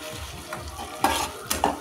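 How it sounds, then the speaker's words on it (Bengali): Ghetkul being stirred in a pan with onion, garlic, cumin and ginger, with a frying sizzle under two or three distinct scraping stirs of a spatula, close and brief, with no talk. "সমস্ত কিছু দিয়ে খুব ভালো করে নাড়াচাড়া করে নেব।"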